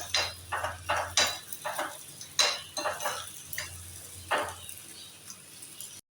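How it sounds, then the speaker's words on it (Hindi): Oil sizzles as onions fry in hot oil in a pan, with a series of scraping stirs and utensil clinks at an uneven rhythm, fairly quiet and close. "अब हम इसके अंदर जो है वो अपनी प्याज को शामिल करेंगे, क्योंकि तेल गरम हो चुका है।"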